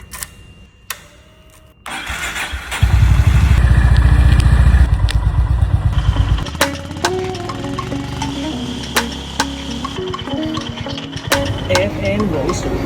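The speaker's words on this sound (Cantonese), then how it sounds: "帶你哋去揸電單車" A motorcycle in Hong Kong cranks and fires up, settling into a loud, close idle and then revving, with clicks and clatter over the running engine.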